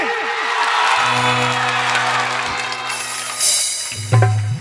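Men in the audience at a Maithili stage show clap together in a steady, continuous patter of applause, mixed with sustained musical tones and a few brief shouts near the end.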